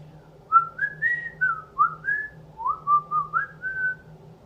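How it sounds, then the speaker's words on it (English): A person whistles a lilting, birdlike tune of short rising and falling phrases, close and clear against a faint low hum, with brief gaps between notes. "He whistled all the way, and the birds whistled back."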